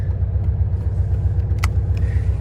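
Air-cooled 1995 Volkswagen Beetle engine idling just after starting, a steady low throbbing rumble close by with a faint click partway through, no voices.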